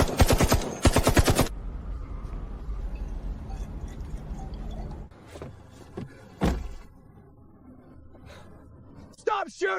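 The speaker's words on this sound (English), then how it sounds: "Stop shooting! We surrender!" A rapid burst of machine-gun fire in a fantasy movie battle opens with loud, evenly spaced shots, followed by rumbling action, a couple of sharp impacts and a voice near the end.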